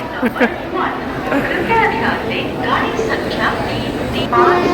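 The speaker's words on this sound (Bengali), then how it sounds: "এই যে দার্জিলিং মেল ঢুকে গেল।" The Darjeeling Mail train pulling into a station platform, a rumbling rolling approach under busy crowd chatter and nearby talk.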